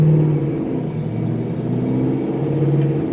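A Corvette engine runs steadily on a dyno, a loud, continuous low rumble with a droning hum that holds fairly even and close throughout, without voices.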